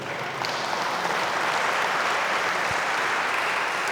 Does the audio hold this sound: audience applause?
yes